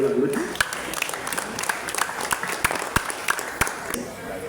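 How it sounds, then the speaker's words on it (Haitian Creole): An audience at a civic ceremony applauds, a moderate spread of claps crackling steadily throughout while a speaker's voice continues over them. "Ainsi, un peu plus fort, on l'applaudit"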